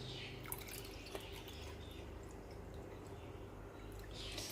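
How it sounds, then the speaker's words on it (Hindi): Cold water pours into a glass holding Jam-e-Shirin sherbet syrup for a Rooh Afza summer drink, a faint continuous trickle and splash close by with a few small drips. "ये मैंने गिलास में डाल दिया है और इसमें जो है मैं ठंडा पानी डालूँगी"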